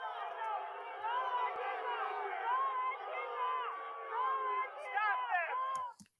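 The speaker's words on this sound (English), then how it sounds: "People are booing and screaming, "Don't break the window."" A dense crowd boos, yells and screams in news footage, many overlapping voices forming a loud, continuous roar with rising and falling shouts for about six seconds before cutting off abruptly.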